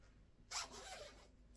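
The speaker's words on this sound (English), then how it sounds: "Get the zip around for you here." A zipper on a black Patagonia full-zip Polartec fleece is pulled in one quick, close rasp, with a short tail and a faint second tug near the end in an otherwise quiet room.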